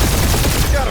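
Rapid enemy gunfire in the Guardians of the Galaxy video game, a dense, loud burst of automatic shots filling the whole moment with no gaps.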